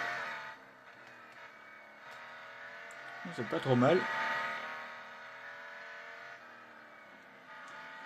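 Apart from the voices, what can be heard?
Koenigsegg One:1 twin-turbo V8 engine in Real Racing 3 video game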